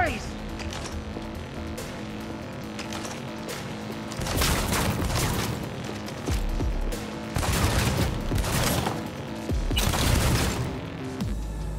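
Assault rifle gunfire in Cyberpunk 2077, coming in several loud bursts of rapid shots between quieter stretches of game noise and soft background sound.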